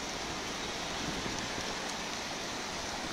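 Rain falls steadily over Sylhet, a broad, even hiss of drops with no breaks or peaks, moderately loud and unaccompanied by voices.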